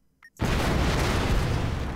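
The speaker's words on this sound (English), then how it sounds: "Explosions happened." A bomb blows up in the Keep Talking and Nobody Explodes video game: a brief click, then a sudden loud, sustained roaring blast that fills the rest of the moment.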